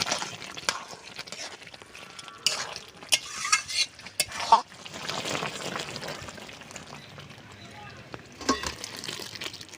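A spoon scrapes and stirs a soybean and pea curry in a pan, sending intermittent bursts of scraping and soft sizzling beneath a voice speaking.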